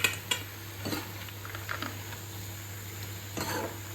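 Spices being stirred and sautéed in a pan for a fish curry with raw banana and potato, a soft sizzle with a few sharp utensil scrapes and knocks against the pan, close by and without talk.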